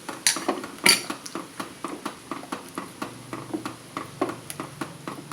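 A spoon stirs ada pradhaman payasam in a pot, striking the metal rim in a steady, rhythmic series of close, crisp clinks. The louder knocks come early, and the clinks continue evenly throughout.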